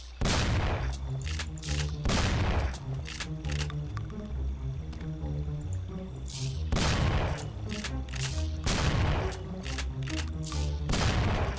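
Gunfire in Mafia: The City of Lost Heaven comes as several loud, sharp bursts of shots spread across about twelve seconds, separated by short lulls with a low game backdrop.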